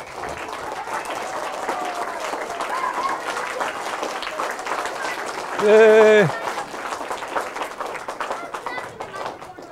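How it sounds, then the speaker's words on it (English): Audience applause fills a City Hall art program recognizing young artists, steady clapping from a crowd running throughout while a speaker talks over it and a short cheer rises near the middle. "Oh, yes. Big applause."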